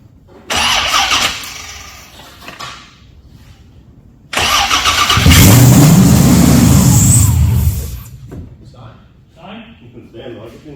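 An LSA supercharged engine in a car called Mako cranks and catches on its first start-up, with a short burst of cranking, then a loud roaring run of several seconds before it cuts out. Voices are heard nearby.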